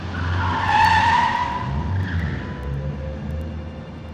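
A car drives loudly and its tires skid and squeal in a long screech that fades out over a few seconds, with a steady engine rumble underneath.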